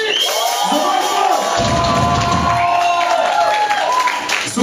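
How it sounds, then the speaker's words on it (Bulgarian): Audience applause and cheering at a small club concert, a broad steady wash of clapping and crowd noise throughout, with voices mixed in. "Тези аплодисменти само за вас, разбира се."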